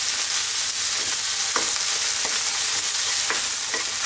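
Garlic ginger paste frying in a hot pan on high heat, a steady dense sizzle with a few brief stirring scrapes, close and continuous.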